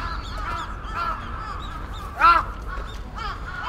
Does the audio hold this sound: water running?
no